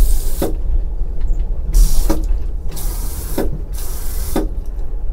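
A push-button sink faucet in an Amtrak Southwest Chief coach restroom sends out several short, forceful spurts of water, each stopping abruptly, heard up close over a steady rumble of the moving train.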